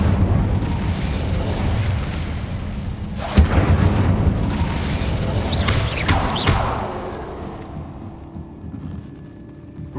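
Incendio fire spell going off in Hogwarts Legacy, a sustained roaring blast with sharp bursts and crackles over about ten seconds that fade toward the end.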